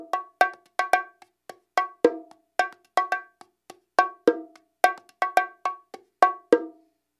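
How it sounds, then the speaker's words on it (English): A simple bongo pattern rings out alone, with sharp, bright hand strikes in a quick, repeating groove that has small variations, the high and low drums alternating clearly and close up. "this is a simple but kind of fun bongo pattern"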